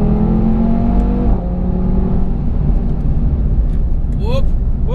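An Audi TT RS with quattro drive accelerates hard at full throttle through corners, its engine note loud and close with rising pitch sweeps, while someone talks over it throughout.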